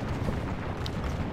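Rapid volleys of gunfire from camel-mounted gunners in the Medieval II Total War battle game, a dense continuous crackle of shots with no gaps, loud and close.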